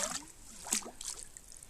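Water runs out of a duck pond through a drainage pipe, giving a soft, steady trickle and splash at close range with faint scattered knocks and no talk.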